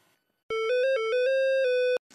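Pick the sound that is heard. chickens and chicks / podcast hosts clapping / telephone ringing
telephone ringing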